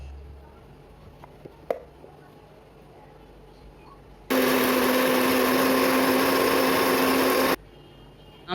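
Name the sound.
electric mixer grinder making a spice paste for rajma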